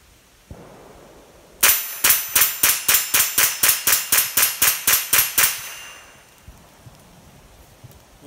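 A plastic-stocked semi-automatic .22 rifle, such as a Ruger 10/22, fires about fifteen sharp, evenly spaced shots in rapid succession. The shots are loud and close, with no speech, and quiet background noise follows.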